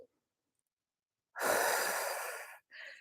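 During an arm-raising exercise, one long, loud exhale follows a silent pause, then a second, shorter breath. The breathing is close and alone, with no speech.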